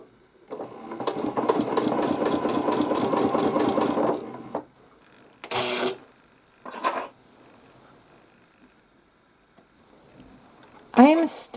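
A sewing machine stitching free-motion quilting in wavy lines, a steady rapid mechanical chatter running for several seconds, then stopping, followed by short bursts of stitching and brief talk.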